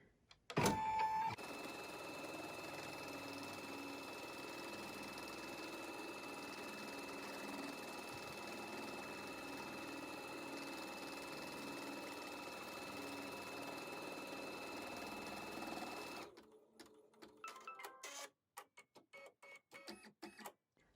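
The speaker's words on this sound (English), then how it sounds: "The first thing we're going to do is stitch our placement stitch." A Baby Lock Solaris sewing and embroidery machine runs steadily for about fifteen seconds while stitching a placement stitch. Its hum and whir stay even and close, then break into a few short stops and restarts at the end.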